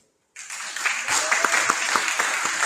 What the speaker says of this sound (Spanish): recibamos con un fuerte aplauso a nuestro